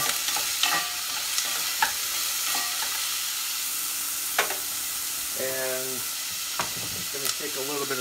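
Diced celery sizzles in a pan while a wooden spoon stirs and scrapes it, steady frying hiss broken by sharp knocks and clatters of the spoon against the pan, close up.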